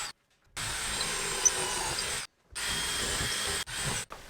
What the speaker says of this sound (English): So I'm gonna go ahead and pre-drill the holes to install my lag bolts.